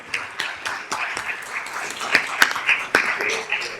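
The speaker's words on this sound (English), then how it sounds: "round of applause for our stellar students" Audience applause for elementary students at a school district meeting: scattered claps and cheers of moderate loudness, rising and falling in bursts over a few seconds.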